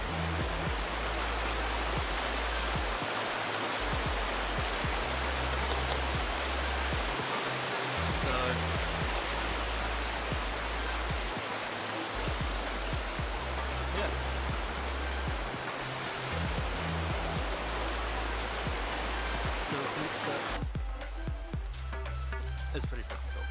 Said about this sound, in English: It's going to be a bit noisy with the water.